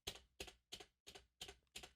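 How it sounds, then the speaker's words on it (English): Six evenly spaced, crisp taps on a computer keyboard space bar, struck at a brisk steady tempo, close and clear with no other sound between them. "I'm going to use my space bar on my computer keyboard to just tap out the tempo"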